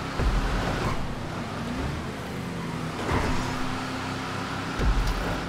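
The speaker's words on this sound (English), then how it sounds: "Man, that car's loud." Loud car engine in a video game, a steady rumbling roar with a few heavier surges, fairly close and continuous.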